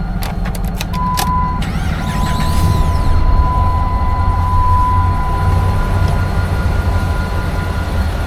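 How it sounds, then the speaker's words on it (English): A Dodge Ram 2500 truck's engine runs steadily at idle, a continuous low rumble throughout with a faint high whine and a few brief clicks early on. "Starts, runs like a Dodge,"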